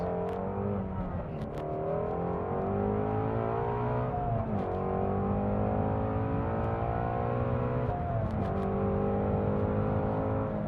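A 2016 Ford Mustang GT350R engine revving loud and close, with steady high-rpm harmonics that climb through gear-like sweeps and dip briefly around two and eight seconds before rising again.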